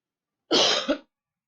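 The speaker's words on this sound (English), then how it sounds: "I'm sorry, I'm coughing." A single harsh cough with a short throat-clearing catch at the end, close and fairly loud, alone in silence.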